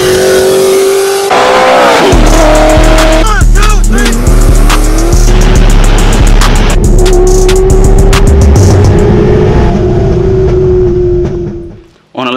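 A ProCharged 441 LSX engine in a C6 Corvette Z06 fitted with a ZR1 transmission roars loudly as it accelerates hard on the road. Its pitch climbs through long sustained revs with a whining edge, then the sound cuts off near the end.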